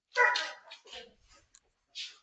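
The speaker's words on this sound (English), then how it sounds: "The dogs are tweaking because someone's home." Dogs bark indoors at home, a few close, sharp barks in a quick cluster, then a pause before one more bark.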